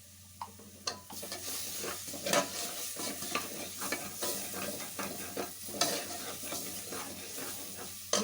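Garam masala frying in a pan on low heat, a soft continuous sizzle broken by irregular scraping clicks of a spoon stirring, quiet and close with no voices.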